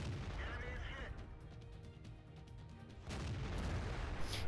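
A tank cannon fires in World of Tanks from an American auto-loading tank: a loud, broadband blast bursts out about three seconds in and its heavy rumble carries to the end, after a stretch of quieter battle noise.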